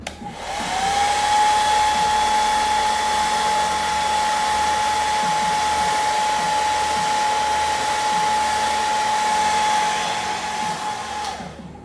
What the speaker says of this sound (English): Then I'll take a trusty hairdryer.